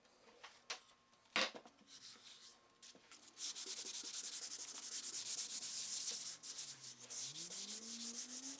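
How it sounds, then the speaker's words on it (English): Wooden cabinet pieces for a vanity tower being sanded, starting with a few scattered scrapes and knocks, then a loud continuous rasping sweep close by that lasts several seconds before easing into shorter strokes. "So I'm gonna sand these"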